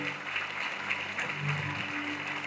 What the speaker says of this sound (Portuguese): Se é para aplaudir, aplauda com vontade, irmão, pelo amor de Deus.